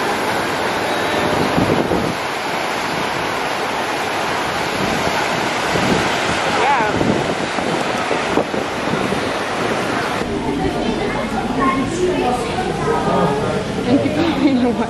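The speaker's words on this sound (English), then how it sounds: "And the waves like remind me ocean waves." Ocean waves surge and wash along the coast at Cefalù in Sicily, where surfers ride the swell, a steady broadband roar mixed with wind buffeting the microphone and distant people chatting.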